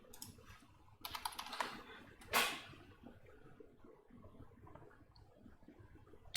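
Typing on a computer keyboard comes in quiet bursts of clicks with short pauses, one louder clack standing out, against a faint room background.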